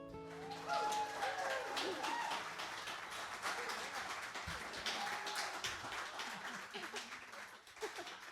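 Audience applause at a live Danika & the Jeb concert in Birmingham, Alabama: dense, steady clapping from a crowd that fills the whole stretch, with some cheering voices mixed in.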